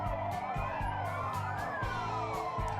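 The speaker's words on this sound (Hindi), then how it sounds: "पुलिस जिप्सी और बाइक दस्ते के साथ सायरन बजाकर पूरे गुरुद्वारे की परिक्रमा करते हुए" Delhi Police sirens wail from a Gypsy jeep and motorbike squad circling Gurudwara Bangla Sahib, with overlapping rising and falling tones held steady and loud throughout.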